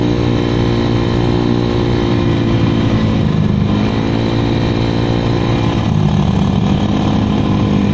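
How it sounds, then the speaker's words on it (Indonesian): A carbureted Honda Vario 110 scooter-style motorcycle fitted with a stock AHM racing exhaust runs steadily near idle, its loud, continuous engine drone dipping slightly twice before settling back to an even throttle. "Nah kalau sekarang knalpot gue yang jadi lebih berisik daripada suara mesin."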